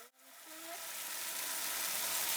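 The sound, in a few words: tortilla passed through hot oil, sizzling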